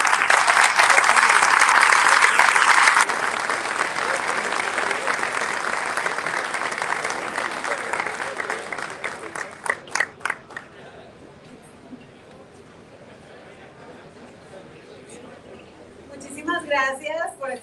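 A crowd at the Navistar Escobedo plant anniversary celebration claps loudly and steadily, and the applause thins out after about ten seconds. A voice then speaks over the quiet room.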